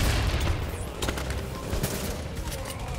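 Video game gunfire and grenade blasts in The Division, with a dense burst of shots and booms up front, then scattered sharp cracks and explosions at moderate volume.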